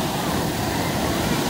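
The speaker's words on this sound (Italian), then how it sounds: "adesso l'oceano si sta un po' arrabbiando, perché rispetto a quando siamo arrivati no, le onde non erano così alte" Ocean surf rolling in along the San Diego coast, near seals, as the waves grow higher; a steady, loud broadband wash of breaking water with some wind, continuous throughout without clear separate crashes.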